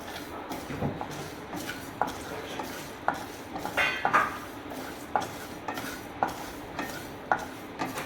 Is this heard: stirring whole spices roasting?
yes